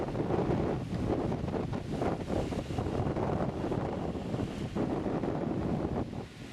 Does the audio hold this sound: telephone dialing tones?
no